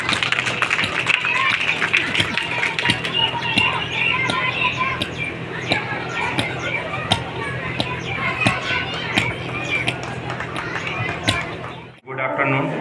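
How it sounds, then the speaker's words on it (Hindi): Loud, sustained applause for the school secretary at a school inauguration ceremony, many hands clapping densely and steadily with crowd chatter mixed in, cutting off abruptly near the end. "जोरदार तालियां इनके लिए।"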